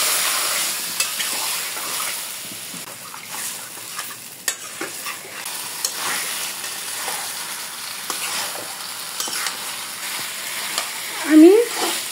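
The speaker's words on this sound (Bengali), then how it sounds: "মরিচের গুঁড়ো দিয়ে দিব আধা টেবিল চামচের মতো। ভালো করে পেঁয়াজের সাথে মিশিয়ে দেব।" Chili powder being stirred into onions frying in oil for a spicy duck curry, a steady sizzle with scraping spoon strokes throughout, one sharper clatter near the end.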